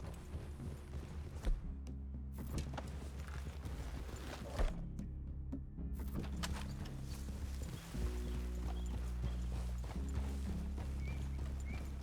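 Horses clip-clop on the ground in Red Dead Redemption 2, steady hoofbeats up close mixed with tack and gear rattles, a brief quieter pause midway, then continued plodding with faint background ambience.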